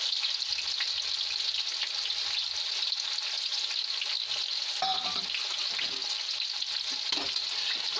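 Finely chopped onions sizzle and fry steadily in a pan for a mixed-vegetable sabzi, a loud continuous hiss with occasional stirring scrapes toward the end, no voices.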